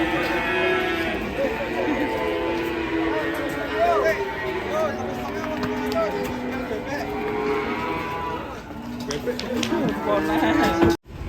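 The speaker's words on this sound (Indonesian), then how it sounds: "Bongkar sapi kurban" Sacrificial cattle are unloaded from a truck, several loud moos rising and falling one after another over engine rumble and shouting voices, ending with a sharp thump.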